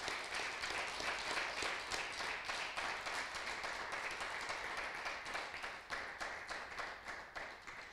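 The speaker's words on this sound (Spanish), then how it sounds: "Vamos a dar un fuerte aplauso al Señor." An assembled audience claps steadily for several seconds, a thick even patter of many hands at moderate distance, with a faint rhythmic pulse toward the end and no talking over it.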